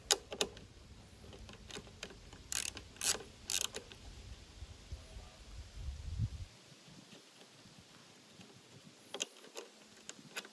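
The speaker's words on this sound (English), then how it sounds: "So it looks like we got a bolt here in the corner holding this bracket in, so we'll take that out." A bolt being removed from a bracket on a Toro self-propelled lawn mower during engine repair: quiet, intermittent metallic clicks and rattling taps, then near silence with a few faint knocks.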